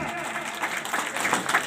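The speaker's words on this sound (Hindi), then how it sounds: "जोरदार ताली बजाएं भैया।" A crowd applauds a Shri Ram bhajan group at a bhajan competition prize ceremony, with continuous clapping under a loudspeaker voice.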